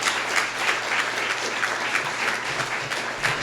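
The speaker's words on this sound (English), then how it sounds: "A round of applause for Clark." Attendees at a technical talk on nonblocking algorithms give a speaker named Clark a round of applause, a steady, moderately loud patter of many hands clapping for several seconds.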